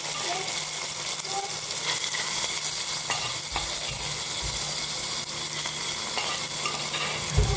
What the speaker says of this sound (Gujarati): હવે જે આપણે સાબુદાણા હતા પલાળેલા એ અંદર એડ કરી દઈશું.